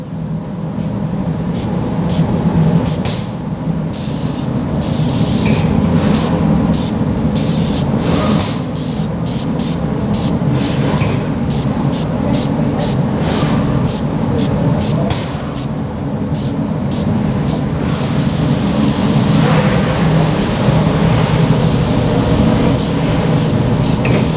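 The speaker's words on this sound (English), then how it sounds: "We're going to spray in short bursts so we don't use excessive product." A handheld trigger spray bottle fires product in a long run of short, sharp bursts, each a quick hiss, repeated in a fairly steady rhythm over a constant background rumble.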